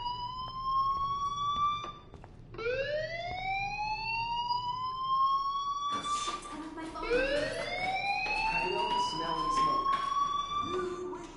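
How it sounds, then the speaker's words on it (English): Fire alarm in the video game Life Is Strange wails in rising, repeating electronic sweeps, loud and continuous, overlapping one another. "do you hear that fire alarm? That means you should be outside."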